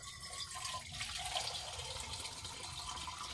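Water running and splashing steadily at close range as someone rinses their feet outdoors at a farm, a continuous broadband wash with no talking.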